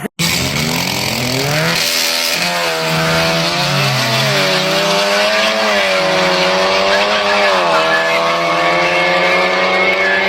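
An Audi TT running hard, its engine note climbing and falling through several revving sweeps, loud and close with a rich harmonic buzz, sustained for the whole stretch.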